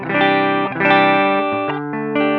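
An electric guitar played through a Strymon Iridium amp simulator with the mid EQ raised gives a few sustained, slightly distorted chords and notes, loud and steady, with a short pause before the final strums.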